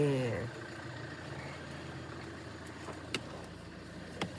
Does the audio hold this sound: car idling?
yes